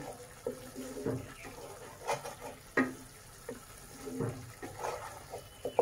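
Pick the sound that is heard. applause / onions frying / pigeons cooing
onions frying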